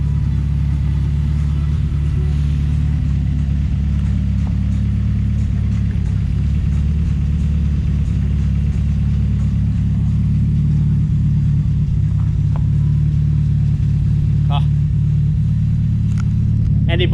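A Ford Escort Mk2 engine runs on a dyno, a steady smooth idle with a deep low rumble throughout, close and loud, with no talk over it.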